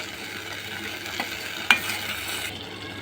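Homemade pizza sauce mixed with a large spoon, a soft steady wet hiss with faint stirring scrapes and one sharp clink of the spoon midway, close and quiet.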